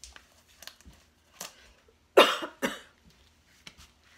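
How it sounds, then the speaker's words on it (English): Two sharp coughs close to the microphone, a short pause between them, amid quiet rustling and soft background sounds. "Sorry for my cough."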